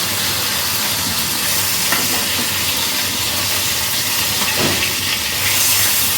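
Fish frying in a pan fills the air with a loud, continuous sizzling hiss that holds steady, with occasional faint pops rising from the oil.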